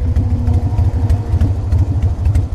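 A Harley-Davidson Softail Standard motorcycle with very high mileage idles steadily with a low, loping rumble and light mechanical clatter, close and fairly loud throughout.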